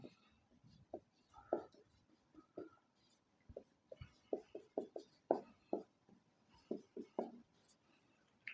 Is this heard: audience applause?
no